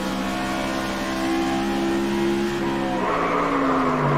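A car brakes hard on its front wheels while the rear wheel keeps turning without locking, giving a steady engine and tire drone that shifts pitch partway through, close and loud with no talking.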